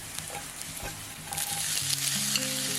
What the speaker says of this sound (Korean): 어느 정도 달궈지면 마늘이 노릇해질 때까지만 볶습니다